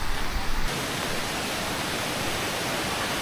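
A waterfall rushes on a road trip stop, its steady, even roar filling the background without a break and with no speech.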